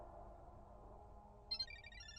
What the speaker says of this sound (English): we hear her phone from outside our window